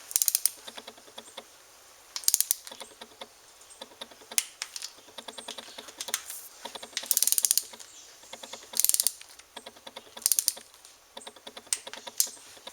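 A ratchet wrench clicks rapidly while tightening 6x1 screws with 8 mm heads on a V-Strom 1000 motorcycle control unit to 10 Nm, close and crisp in irregular bursts.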